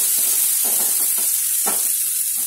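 Tomato masala simmers and sizzles in a pan, a steady close hiss with a few soft stirring scrapes breaking through at intervals.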